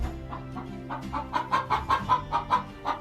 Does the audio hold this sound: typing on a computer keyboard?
no